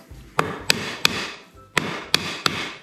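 A small hammer strikes wood while a glass-paneled partition is being fitted, giving six sharp knocks in two groups of three, evenly spaced and close by, with no voices.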